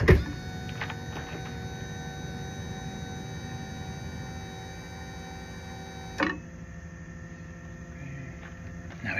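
The electric motor of a camper's entry steps runs with a steady, close mechanical hum, then its tone shifts abruptly after a thump partway through.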